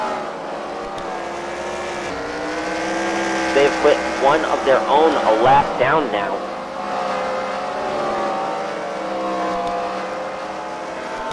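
Race cars circling a track at a Freedom Factory fight night race, a continuous loud engine drone with rising and falling revs under a commentator talking throughout.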